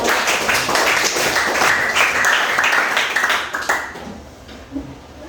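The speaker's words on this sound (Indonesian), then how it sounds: "Kita tepuk tangan sekali lagi untuk semua." A classroom audience of students claps in a loud, dense burst of applause that lasts about four seconds and then quickly tapers off to scattered sounds.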